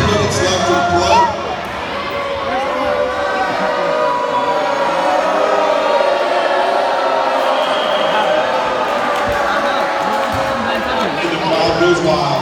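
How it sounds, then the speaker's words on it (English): A crowd at a high school volleyball game between teachers and students roars with loud, continuous cheering and shouting for the whole stretch, voices overlapping in a busy gym. "And the crowd goes wild."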